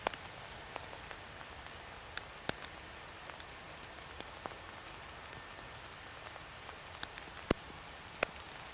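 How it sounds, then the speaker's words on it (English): Pouring rain falls outdoors near a supermarket in North Bretton, Peterborough, a steady soft hiss of drops with scattered sharper taps and plinks on nearby surfaces, quiet and unbroken, with no voices. "in the pouring rain"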